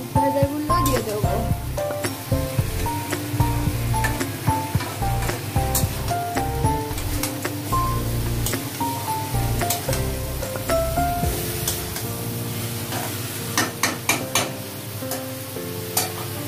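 Chicken and whole fried potatoes being stirred in a frying pan while a home-style biryani is made, with a steady scraping and sizzling throughout over continuous background music.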